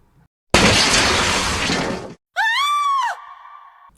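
Balcony doors slam with a loud crashing burst lasting over a second, followed immediately by a woman's short high scream, then a fading tonal ring.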